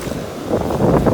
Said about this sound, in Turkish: Bu ne biçim dalga?